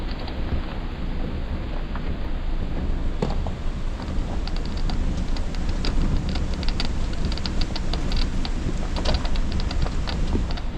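Light rain falls in a dense forest near a remote village, a steady, even patter with scattered drip clicks that fills the whole stretch without pause.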